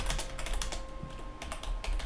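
Rapid keyboard typing in a terminal-based bash touch typing game, with dense, continuous clicking keystrokes that are fairly close and steady throughout, no voices.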